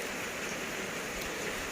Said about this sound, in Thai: ฝนเอ้ย